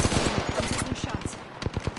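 Rapid automatic gunfire in a battle-royale shooter game, bursts of shots rattling steadily for the whole stretch with a faint voice underneath.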